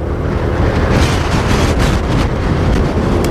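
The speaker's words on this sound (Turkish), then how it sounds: "Çok aşırı derecede rüzgar var." Very strong wind near a house fire in Karşıyaka, İzmir, buffets the microphone as a loud continuous rumbling roar with gusty surges throughout and no speech.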